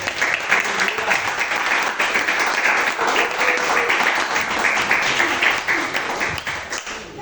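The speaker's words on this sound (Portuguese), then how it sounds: "aplauda ao Senhor" A church congregation during a worship service breaks into sustained, energetic applause, dense overlapping clapping holding steady for around seven seconds with a faint hint of voices mixed in beneath.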